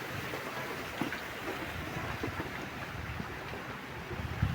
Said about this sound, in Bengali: দেখুন বাতাস আর যে বৃষ্টি কালকের থেকে শুরু হইলো